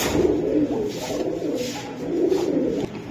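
Pigeons at a pigeon market coo in soft, repeated throaty rolls, fairly close and with no voices.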